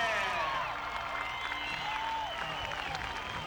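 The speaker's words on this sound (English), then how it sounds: "give him a round of applause, Mr. Dan Patrick." Crowd applause at a monster truck event as a participant is introduced, heard as a steady wash of clapping and crowd noise with cheering voices mixed in, fairly distant and continuous throughout.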